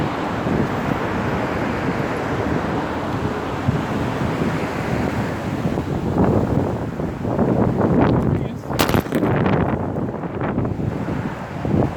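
Strong wind buffets the microphone in a constant roaring rush, with louder gusts toward the end.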